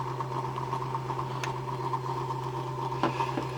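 A Muller motor generator spins just under 500 RPM, giving a steady low electrical hum with a faint mechanical whir, close and even, with a couple of small clicks near the end.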